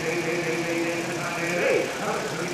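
John Deere 4020 tractor with a polished straight exhaust pipe, running at a steady, rumbling idle with a mild knocking texture, close and fairly loud throughout, with faint voices in the background.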